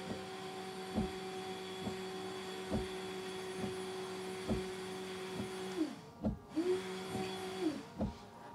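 A Jaguar XK8 windscreen washer pump motor runs with a steady electric hum, with rhythmic thumping pulses about once a second, then stops and restarts briefly toward the end.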